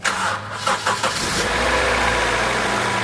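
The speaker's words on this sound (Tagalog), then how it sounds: "Tsaka ako ngayon pa-start itong makina." A Honda CR-V engine cranks with a few stuttering turns, then catches and settles into a steady, loud running rumble.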